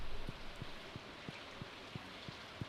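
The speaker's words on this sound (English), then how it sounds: "It's raining!" Soft rain in the video game Stardew Valley patters faintly and steadily, punctuated by a regular series of quiet ticking drops or taps about every third of a second.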